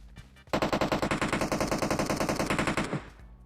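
Sustained automatic gunfire in the mobile battle royale game PUBG Mobile: a rapid, evenly spaced burst of about two and a half seconds, loud and close, standing alone with no talk over it.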